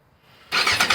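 A restored motorcycle engine catches after a short quiet crank, bursting abruptly into a loud, close, rough idle that carries on to the end.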